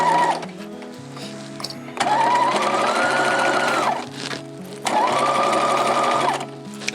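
A Bernina sewing machine stitching a zipper into a sweatshirt runs in two sustained, loud whirring bursts with a steady rising motor tone, separated by a short pause, close by.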